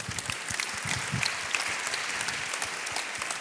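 An audience at a mentoring evening event claps steadily in a dense, moderately distant round of applause lasting a few seconds, with no voices over it.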